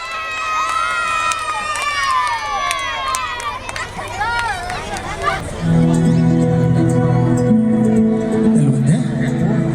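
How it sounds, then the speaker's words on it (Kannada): At the Sirsi Utsava festival stage, a large crowd cheers and shouts while an announcer's amplified voice calls out over them. Then music begins and the lively crowd noise continues underneath. "ಜೋರಾದ ಚಪ್ಪಾಳೆ ಬರ್ಲಿ"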